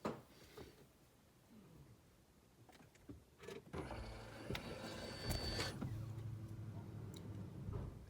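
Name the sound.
car fuel pump priming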